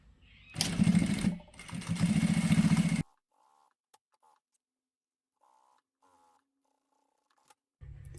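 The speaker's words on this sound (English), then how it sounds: "So with the vinyl foot on, I'm going to go and top stitch this" A sewing machine top-stitches vinyl through a vinyl presser foot while sewing a cosmetic bag, running in two loud, steady whirring bursts with a short pause between them, followed by near silence with a few faint clicks.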